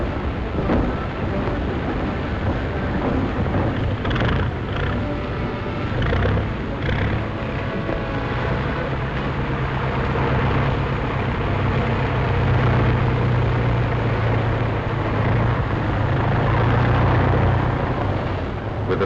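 A World War II plane towing gliders taxis down the runway in Operation Varsity near Wesel, Germany, its engine a continuous rumbling drone that grows slightly louder toward the end, with no voices.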